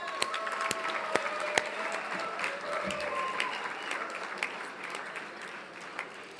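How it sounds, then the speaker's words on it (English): Applause from an audience at a winemaker of the year honour for Bob Cabral of Williams Selyem, moderate and steady, with a few sharper individual claps standing out over roughly six seconds. "Yes, feel free to clap."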